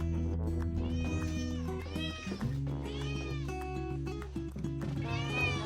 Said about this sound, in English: Curled up on your chest, the cat purrs softly warm, trusting, and full of love.